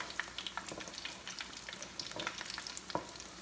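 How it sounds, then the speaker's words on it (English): Puerto Rican alcapurria frying in shallow oil while a spatula spoons oil over its top: a soft, steady sizzle peppered with small pops and light scraping, fairly quiet and close, with no voices. "I like to grab the spatula and lightly cover it with the oil"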